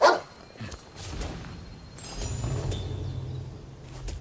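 Dog in the video game Rise of the Ronin giving a short bark at the very start, close and sharp, then fading into quiet game ambience with soft rumbles.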